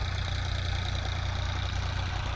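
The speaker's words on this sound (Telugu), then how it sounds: "ఇక్కడ డబుల్ ఇంజిన్ మాత్రం రన్ అవుతుంది" Two dewatering pump engines run together at a flooded construction site near a tower, giving a steady, loud low mechanical drone with an even idling throb and no pauses.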